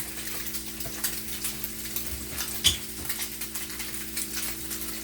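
A cod loin sears in a hot pan, giving a steady, moderate sizzle and crackle with a low background hum and a brief louder pop partway through.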